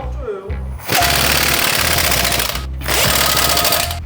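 Air impact wrench tightening wheel nuts during a tire change, loud continuous rattling hammering in two long bursts with a brief gap, close by.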